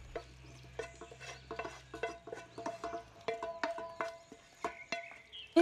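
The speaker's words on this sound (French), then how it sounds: "Et remuez bien le tout." Tomato sauce with meatballs and cooked vegetables stirred with a utensil in a pot, giving a series of soft, irregular clacks and scrapes with a low hum under the first half; no talking.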